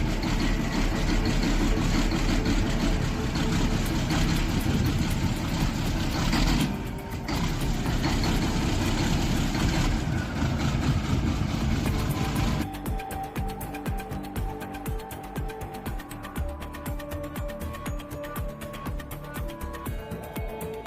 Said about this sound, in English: the LAZ 1833's engine faces a tough cold start, delayed combustion, and thick smoke